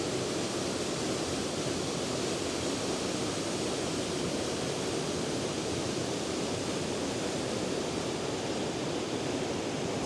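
A New Zealand waterfall heard from quite a way back, a steady broadband roar of falling water that stays even and unbroken throughout, with no voices.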